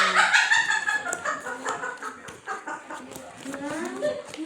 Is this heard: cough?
no